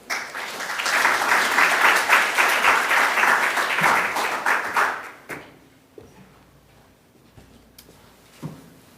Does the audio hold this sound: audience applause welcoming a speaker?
yes